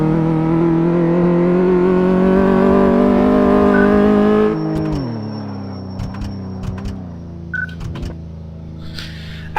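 Car engine in Car Mechanic Simulator 2014 held hard against the rev limiter, a loud buzzing harmonic drone that drops to a lower idle with sharp clicks and blips afterward.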